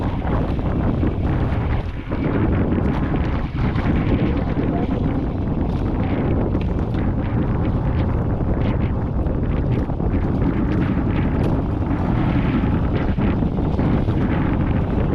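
Strong wind roars continuously and loudly across the microphone, a steady buffeting rumble with no pauses.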